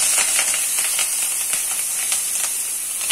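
Mustard seeds, curry leaves, onions and chillies frying in hot oil for lemon rice, a steady close sizzle with faint crackles and stirring taps, no one talking.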